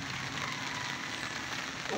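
Light drizzle patters steadily on a tarp shelter outdoors, a soft, even hiss of fine rain with no voices.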